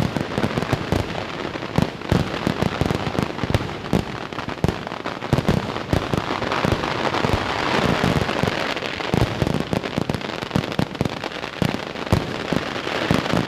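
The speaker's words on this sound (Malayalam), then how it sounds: "പൂരനഗരിയിൽ കരിമരുന്നിൽ ആകാശവിസ്മയം തീർത്ത് സാമ്പിൾ വെടിക്കെട്ട്." Sample fireworks display at Thrissur Pooram, staged by the Paramekkavu and Thiruvambadi sides, with dense, continuous rapid-fire bursts and crackling explosions pounding nonstop at close, loud range.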